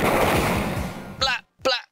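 Gunfire in the Sega CD game Snatcher: a fast, loud burst of shots for about a second, then two short voice-like bursts with silence between them.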